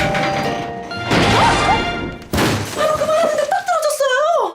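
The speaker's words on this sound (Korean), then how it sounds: "그녀의 간판이 뚝 떨어졌네요." In a Korean drama, a shop sign falls from a building and lands with one loud, sudden crash midway through. Voices and sound effects come before it, and a rising musical tone follows.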